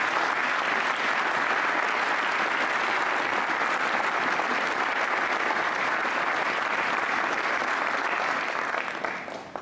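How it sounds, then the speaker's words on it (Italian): Dense, sustained applause from a large audience at the inauguration of a new ring road section in Verdello, Italy, steady and loud throughout before tapering slightly at the end. "vi chiedo di fare un grande applauso"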